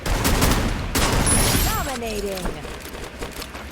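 Gunfire in the mobile battle royale game Free Fire: rapid, continuous volleys of shots that thin out into scattered pops, with someone talking over the game sounds.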